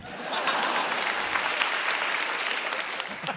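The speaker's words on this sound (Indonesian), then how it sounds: "Beri tepuk tangan untuk belalang merah." A studio audience at a stand-up comedy grand final claps steadily, a dense even wash of applause lasting a few seconds, fairly close and without talk over it.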